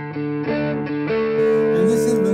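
A Stratocaster-style electric guitar plays sustained notes with Tube Screamer-style overdrive, a touch of delay and a reverb tail, with chords shifting and ringing out.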